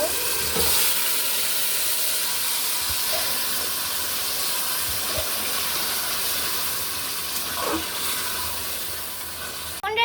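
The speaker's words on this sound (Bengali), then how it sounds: "পেঁয়াজগুলো ভাজা হয়ে গেছে আর এখন মুরগির মাংসগুলোকে দিয়ে দিব" Chicken meat added to onions already fried in a pan sizzles and hisses continuously and fairly loudly, with occasional stirring scrapes and a short clatter at the very end; no one speaks.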